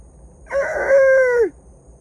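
A single loud rooster crow rings out close by, a full one-second cock-a-doodle-doo against quiet background.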